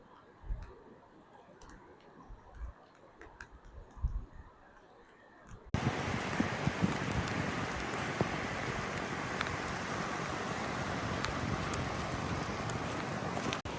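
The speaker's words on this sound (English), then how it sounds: "you can see the rain on the beach there. Definitely raining." Rain falling on a beach on the Canadian coast, a dense steady hiss of drops that begins suddenly after a quieter stretch of scattered ticks and taps, then continues evenly and close.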